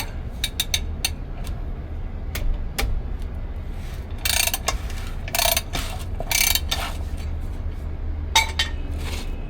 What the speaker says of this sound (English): So unscrew the hubcap